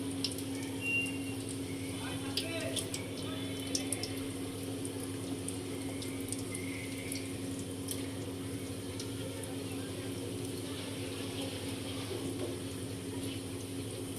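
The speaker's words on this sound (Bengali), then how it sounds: "হালকা তেলে ভাজতে হবে তো, তিনটা তিনটা করে নেব।" Snacks frying three at a time in a shallow layer of light oil, a steady broadband hiss with faint crackles running throughout under a constant low hum, with no clear words.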